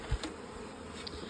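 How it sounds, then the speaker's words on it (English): Buckfast honey bees humming at the hive as a faint, steady drone, with a soft thump at the start and a couple of quick bee passes close by. "Some of these bees in here."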